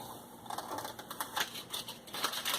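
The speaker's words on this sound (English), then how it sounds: "Carefully peel back transfer tape so I don't rip up the decal" Transfer tape peeling slowly off a carbon fiber vinyl decal, a close crackly rasp in short uneven bursts.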